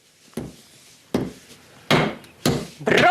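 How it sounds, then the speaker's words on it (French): A child striking with a hammer: four or five separate sharp knocks at uneven intervals, close and loud, with a brief voice at the end. "Tu tiens le marteau comme ça."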